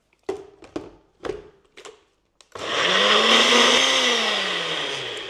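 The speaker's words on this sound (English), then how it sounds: "put your lid on and get it on your blender" Blender whirring through pina colada dipping sauce made with pineapple, starting after a few short knocks and clatters, then a loud steady whine that shifts pitch slightly as it runs.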